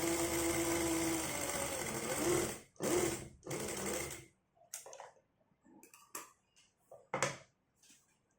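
A sewing machine runs a continuous line of stitching along the side edge of cloth, close and steady for about four seconds, then gives a few short, separate bursts as the fabric is stitched.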